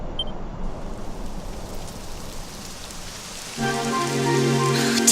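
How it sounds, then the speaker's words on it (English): Steady rain in the video game Dragon Quest XI hisses softly, then grows heavier and fuller partway through, with a low droning tone joining underneath. "It would have to go and start raining, wouldn't it?"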